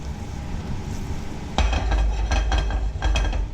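Shiitake and maitake mushrooms in butter start to sauté in a pan with a sudden low rush of sizzling and a few utensil stirs and scrapes, close and steady, no talking.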